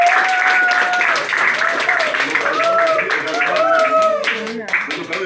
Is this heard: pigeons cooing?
no